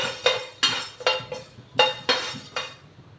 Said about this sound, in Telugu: ఇప్పుడు ఒక స్పూన్ ధనియాలు వేసుకోవాలండి కొంచెం వేయించుకోవాలి